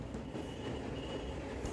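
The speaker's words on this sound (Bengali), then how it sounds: "যাই হোক, ট্রেন পেয়ে গেছি।" Passenger train rolling along while crossing the Ganges near Dakshineswar, a dense steady rumble of wheels and carriage noise heard from inside, with no talk.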